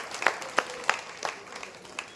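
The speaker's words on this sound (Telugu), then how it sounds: "సాధువులందరికీ ఒక్కసారి చప్పట్లు కొట్టాలి." Scattered audience applause for saints at a Telugu gathering, a few sharp claps spaced about a third of a second apart, moderately distant and fairly faint, with no talking.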